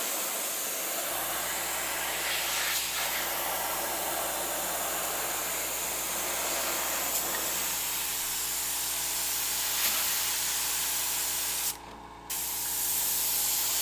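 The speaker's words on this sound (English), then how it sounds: "I should not have sprayed it out of this gun." Airbrush spraying opaque green paint through a fine nozzle, a steady close hiss of air and paint lasting almost the whole stretch, broken only by a brief drop near the end.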